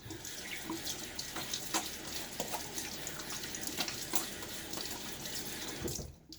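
Tap water runs steadily into a sink for a rinse after a shave with a Rockwell 6C razor, a close, continuous splashing stream with small clinks, cut off abruptly at the end.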